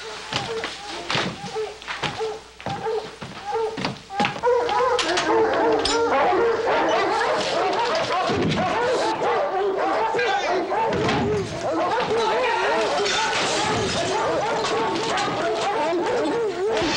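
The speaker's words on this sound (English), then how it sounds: "sounds like hounds baying" Hounds bay and bark in repeated yelping bursts, some near and loud, over a noisy outdoor scene with thumps and voices talking alongside.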